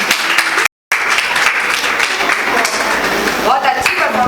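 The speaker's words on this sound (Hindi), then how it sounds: "एक बार जोरदार तालियां इसके लिए" Loud, dense audience applause at a Das Lakshan Parv religious gathering in Prashant Vihar, Delhi, with steady clapping broken by a short dropout and a voice speaking over it near the end.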